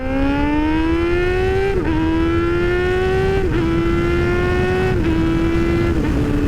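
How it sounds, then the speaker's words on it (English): A motorcycle engine holds a steady drone, and three quick dips in pitch come as the throttle is cut and the bike is slipped up through the gears, close and loud with no talk. "cutting the throttle like this so we can unload the transmission and slip the bike into gear"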